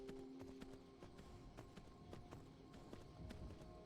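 Horse galloping in the video game Skyrim, a quick rhythmic run of hoofbeats at moderate distance, faint under low game ambience and steady throughout.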